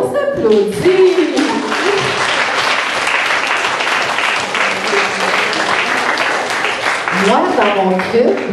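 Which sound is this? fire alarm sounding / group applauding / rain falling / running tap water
group applauding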